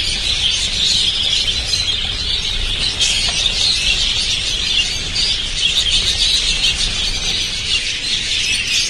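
A cage of Bengalese finches at a bird shop in Baghdad chirps in a dense, continuous high twitter, close and steady, with no talk over it.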